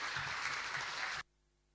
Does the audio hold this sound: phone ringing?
no